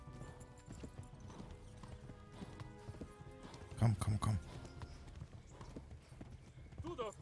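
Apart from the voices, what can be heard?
horse galloping hooves in video game Kingdom Come Deliverance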